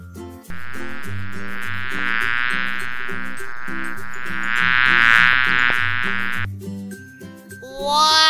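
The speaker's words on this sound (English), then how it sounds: "Bee." A toy plays an electronic buzzing bee sound over a bouncy tune, a bright droning buzz lasting several seconds before fading into chimes.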